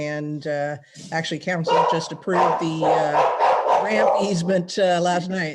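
Dogs bark intermittently in the background of an indoor setting while a person talks steadily over them, the barks partly masked by the voice.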